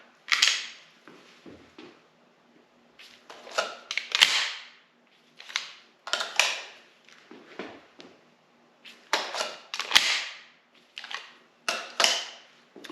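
A pistol fires in sharp, loud bursts during a USPSA speed reload drill, with clusters of shots separated by short pauses where the reload happens, no voice over them.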